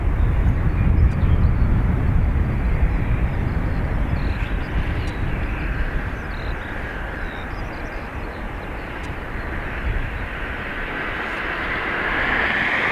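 A Coast Guard aircraft takes off at Dublin Airport as a loud, broad engine roar, heaviest at the start. It eases slightly mid-way, then swells again toward the end, with no voices over it.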